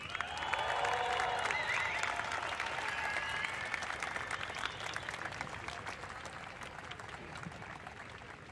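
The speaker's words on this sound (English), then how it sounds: "Let's make some noise for your women's champion from Australia, Macy Callaghan." Crowd on a surf contest beach applauds and cheers the women's champion at the EDP Vissla Pro, a steady wash of distant clapping that slowly fades.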